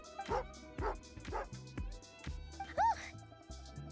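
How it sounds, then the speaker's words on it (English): A dog in the video game Genshin Impact barks and yips several times in a steady series, with a whimpering tone, over quiet background sounds. "Angry doggy."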